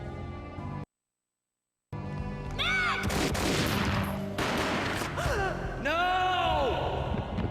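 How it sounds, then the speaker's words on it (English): A single loud gunshot booms in the Xbox game Max Payne. It is surrounded by gasping, breathy voice sounds and a cinematic, reverberant mix. "A gunshot boomed and she fell down in slow motion."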